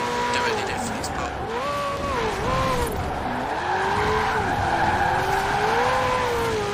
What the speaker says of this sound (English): Bit of a drift.